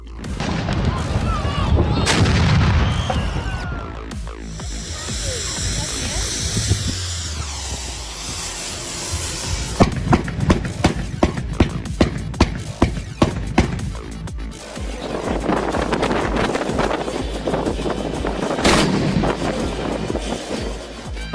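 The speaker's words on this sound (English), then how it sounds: "Thousands of people from across the country gather here to explode carbide using special cannons" Loud, booming carbide cannon blasts go off repeatedly, some distant and some close, with a rapid run of sharp explosions in the middle amid crowd noise at a large gathering.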